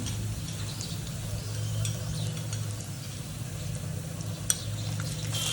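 Onion slices cook slowly over low heat in a pan for a rajma curry, giving a steady, soft sizzle and frying hiss that runs throughout, with a faint clink near the end and no voices.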